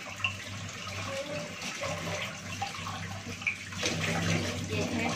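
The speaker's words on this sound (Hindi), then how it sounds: "साग में धुल लेती हूँ, धुल के इसको पानी अच्छे से गल जाएगा ना" Radish greens are washed under steadily running tap water in a home kitchen, a constant soft splashing rush with small bursts of splatter, fairly quiet and close.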